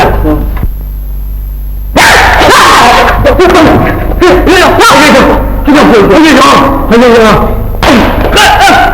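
A dog barks repeatedly in quick, uneven bursts mixed with thumps and loud voices, everything close and loud after a quieter opening.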